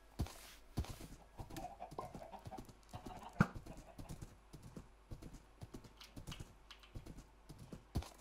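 Skeleton horses in a Minecraft stable give off irregular hoof clip-clops, soft and scattered, with faint background clicks and no talking.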